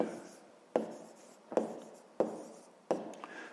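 Handwriting during a fifth-grade math exercise: five distinct pen strokes scratch across paper at an even pace, each a sharp onset fading out, close and moderately quiet with no talking.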